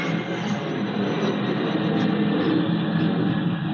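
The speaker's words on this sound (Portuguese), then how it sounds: "vocês vão sempre ouvir essa zoada aí de decolagem de avião" An airplane takes off near an airport, a broad steady roar of jet engine noise that stays loud and unbroken for the whole stretch, with no talking.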